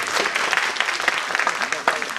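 Audience applause at a Chakkiyar Koothu performance during an Onam celebration, dense close clapping from a crowd that continues throughout.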